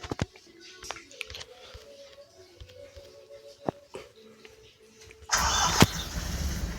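An Agrale Gran Micro S2 bus engine in a video game mod starts up after several quiet seconds of faint clicks and low rumble, then holds a loud, steady, rough running roar to the end.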